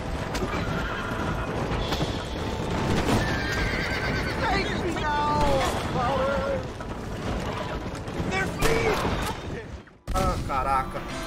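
Neighing horses in Red Dead Redemption whinny several times over steady hoofbeats, with gunfire-like bursts and voices in the busy game mix, which cuts out briefly near the end before resuming.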